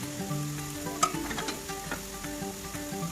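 Potato pieces frying in a pan with ginger-garlic paste, coriander powder and garam masala, a steady close sizzle with the scrape and clack of a spoon stirring now and then.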